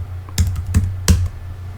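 A few clear keystrokes sound on a computer keyboard while text is typed into a web page's code, three distinct clicks over a steady low background hum.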